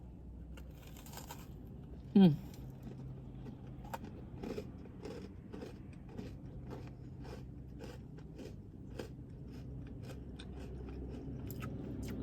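Someone bites into a dry Crumbl white chip cookie with one sharp, close crunch, followed by faint, scattered chewing crackles.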